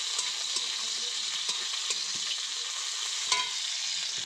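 Onion sizzles in hot oil in a wok, an even hissing fry punctuated by regular spatula scrapes and light taps as it is stirred, close and without talk.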